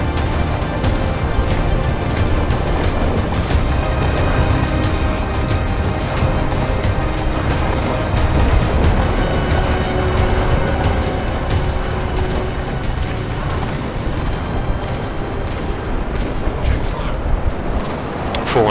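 Weapons in a military game open fire on enemy targets, a dense, continuous barrage of shots and booms with a steady rumble that never lets up.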